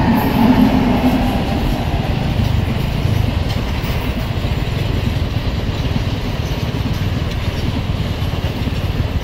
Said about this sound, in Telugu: train number 17261 Guntur Tirupati express Jammalamadugu railway స్టేషన్కి అయితే ఎంటర్ అవుతుంది